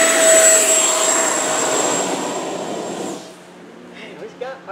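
RC E-flite F-18 Hornet electric jet at full throttle, a loud, close, high whine and roar that cuts off after about three seconds, followed by quieter background sounds.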